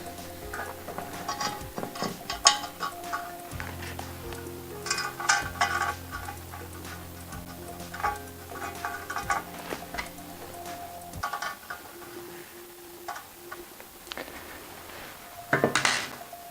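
Small metallic clicks and light tool contact as a tiny 1.5 mm hex key turns the base plate screws on sim racing pedals, irregular and close, with brief clattering bursts and quiet gaps.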